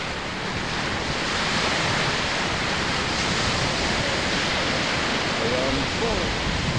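Ocean waves crash and surge in a dense, continuous roar, mixed with heavy wind noise and no pauses.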